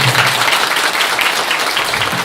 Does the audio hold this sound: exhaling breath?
no